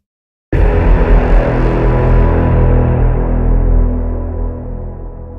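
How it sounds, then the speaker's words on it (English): A massive cinematic trailer hit from the Keepforest Evolution Atlantica sound library, a sudden loud booming impact after a moment of silence, followed by a long, heavy rumbling decay that slowly fades. "it can produce massive and earth-shattering sounds like this"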